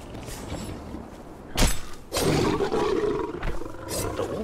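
A tiger roars in the Conan Exiles game on the Isle of Siptah, with a sharp burst at first and then a long, loud, rumbling growl that carries on. No one talks over it.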